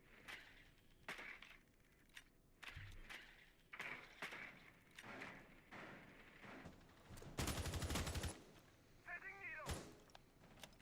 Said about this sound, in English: Firing downstairs, Grixer just making some holes for his teammates and him to use